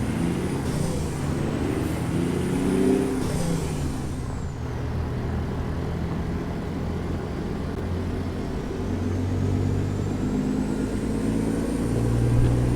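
A heavy rig loaded to 89,000 pounds pulls away in American Truck Simulator, a steady low engine drone building under rumbling tyre noise with a brief hiss early on, no talking.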